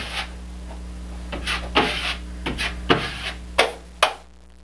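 A 6-inch putty knife scrapes drywall joint compound over screw heads for a second coat, about half a dozen short, close, loud smearing scrapes spaced apart against a low steady hum.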